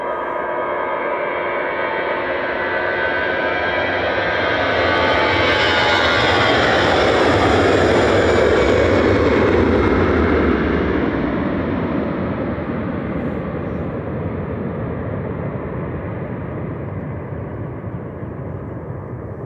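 An Iberia airliner passes at Manchester Airport, its jet engine roar building to a broad peak and then slowly fading away, loud and steady throughout with no talk.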